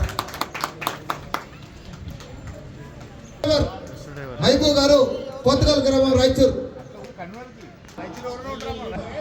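An outdoor crowd claps at the prize ceremony of a bullock cart pulling contest, with loud bursts of applause and sharp claps under an announcer's amplified voice, which carries through much of the stretch.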